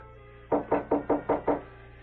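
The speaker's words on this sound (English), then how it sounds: "Is someone knocking at the door?" Six evenly spaced knocks on a wooden door, a radio drama sound effect, loud and close over a quiet background hum, delivered as one steady sequence with no talking.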